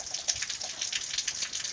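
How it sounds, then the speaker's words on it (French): Water runs from an opened tap, a soft spattering trickle with fine irregular droplet splashes, faint and continuous with no voices. "si on ouvre un robinet"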